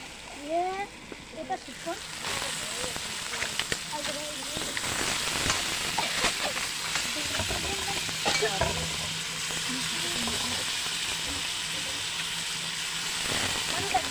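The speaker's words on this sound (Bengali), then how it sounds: "এবারে মশলার সাথে খুব সুন্দর করে মাংসটাকে কষিয়ে নেব" Duck meat sizzles and fries with spice paste in a pan while being stirred, a steady, close crackling hiss with scraping stir sounds and a voice talking over it at times.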